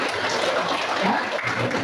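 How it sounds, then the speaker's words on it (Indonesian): Applause from a class during a Grade XI lesson on ideology, a short steady burst of clapping that fills the whole moment at moderate loudness with no voice over it. "tepuk tangan buat Tommy."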